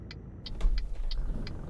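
Truck engine hauling up a mountain road in Euro Truck Simulator 2, a steady low rumbling drone under load with a regular clicking tick repeating about every third of a second.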